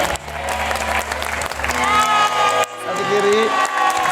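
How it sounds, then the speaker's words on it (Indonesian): Studio audience clapping and cheering for contestant Yoga Yogi on a family game show, a busy burst of applause with whoops and music-like tones mixed in, fairly loud and continuous before a brief break. "Tepuk tangan untuk Yoga Yogi."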